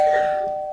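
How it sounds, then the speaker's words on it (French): A single sustained electronic bell tone rings steadily and slowly fades, loud and close with no talking. "C'est la sonnette."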